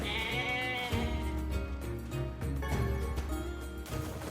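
Sheep bleat repeatedly in the video game NieR Replicant, several wavering calls layered over continuous background game sound.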